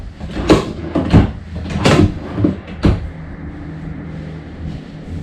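Big cabinet drawers in a 2020 Forest River Wildcat 290RL fifth wheel trailer slide and thump shut several times in quick succession, close and fairly loud, followed by quiet room tone.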